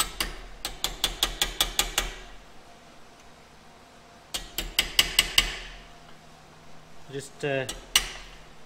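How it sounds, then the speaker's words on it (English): A planishing hammer taps a Hawker Typhoon aircraft panel in two quick bursts of light, evenly spaced metallic ticks, close and fairly loud, followed by a brief softer clatter, with a few spoken words. "So this is essentially planishing, which is removing smaller dents and imperfections."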